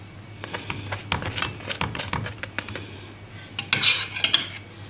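A metal utensil scrapes and taps repeatedly against a pan while spreading ketchup over a vegetable and luncheon meat pie, a close, irregular series of clinks and scratches.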